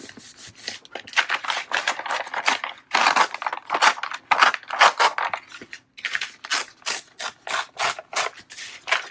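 Paper is torn by hand for a Halloween ring journal, a series of loud, close, scratchy ripping bursts in short uneven strokes, with brief pauses between them.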